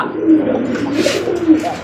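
A pigeon kept in a loft of pairs coos close by in a soft, low, rolling voice, with two or three throaty pulses over a couple of seconds.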